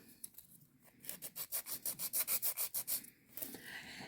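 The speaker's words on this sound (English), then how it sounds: "when you're filing your nails" Quick back-and-forth strokes of a hand nail file across acrylic nails, a steady run of about a dozen raspy, evenly spaced rubs, close and fairly loud, with no talking.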